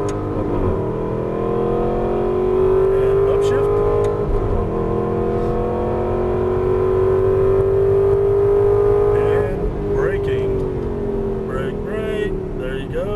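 Aston Martin V8 Vantage engine on a Las Vegas race track, a loud steady in-car drone rising in pitch under acceleration, easing briefly around a shift, then climbing again under an instructor's coaching voice.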